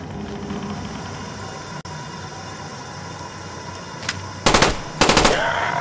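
Short bursts of machine gun fire in the Call of Duty VR Zombies map Kino Der Toten, two loud rapid volleys near the end over a steady background hum.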